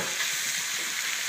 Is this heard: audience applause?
no